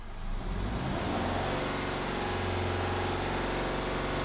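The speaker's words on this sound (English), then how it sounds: "So let's give it a little rev." A Subaru engine with a replaced short block idles and then rises in a steady rev, a loud, close, continuous mechanical hum and drone that holds through the whole stretch.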